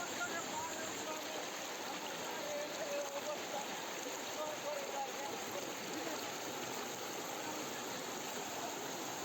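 Floodwater surrounds a village and flows along its road, making a continuous broadband rushing wash that is fairly faint and steady throughout, without clear speech over it.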